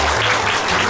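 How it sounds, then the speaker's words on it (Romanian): Audience applause at a seniors' evening event in a hotel hall in Iasi, a dense, loud, continuous clapping of many hands filling the whole moment. "Haideți, vă rog, să-l aplaudăm."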